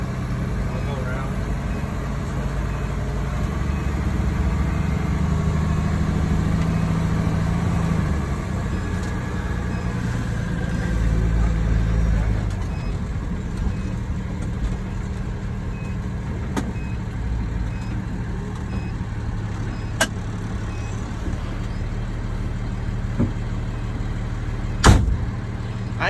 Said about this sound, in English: I've always wanted to ride in this truck.